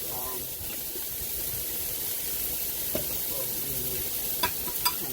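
Fish cooks in a pan with a quiet, even sizzle and faint hiss, broken by a few light utensil taps.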